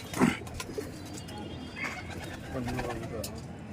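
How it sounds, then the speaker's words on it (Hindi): Cooing from a golden female pigeon and a fancy Kasni Teddy pigeon, with a soft close coo near the start amid low murmuring and faint background activity. "ये ईमानदीन कबूतर है और इससे मादा मिली है गोल्डन मादा मिला"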